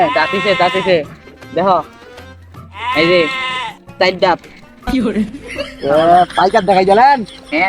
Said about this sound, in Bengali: দেখেন দেখেন ছাগলটা দেখেন